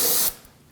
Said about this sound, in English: Just use a little brake cleaner.